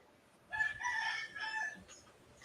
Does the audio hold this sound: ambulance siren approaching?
no